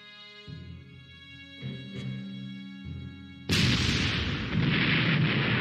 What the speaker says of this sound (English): My 88 gun takes out the artillery.